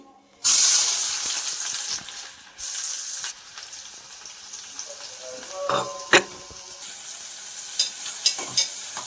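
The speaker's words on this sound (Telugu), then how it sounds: "ఇదే ఆయిల్లో కొన్ని ఒక 4-5 చిన్న ఆనియన్స్ కట్ చేసి నేను ఇందులోనే వేస్తున్నా, సన్నగా తరిగి" Four or five small thinly sliced onions dropped into hot oil, bursting into a loud hiss that settles into steady frying, punctuated by intermittent stirring clatters and scrapes.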